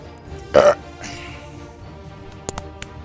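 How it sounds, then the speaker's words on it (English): A single loud, throaty burp erupts near the start, followed by a few faint short clicks against a quiet background. "Burp."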